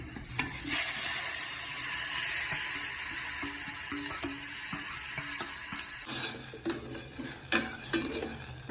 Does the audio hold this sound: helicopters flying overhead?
no